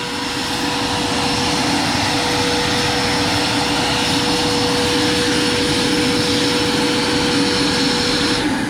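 Electric ducted fan of an MD 600N RC helicopter spinning near 29,000 RPM, a loud, steady, close whine with a high tonal hum over rushing air, unbroken throughout.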